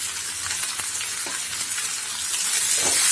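Carrots, peas and raw mango stirred in a hot pan for mixed vegetable dal: a steady, close sizzle with occasional scraping strokes of the spoon, swelling slightly louder toward the end.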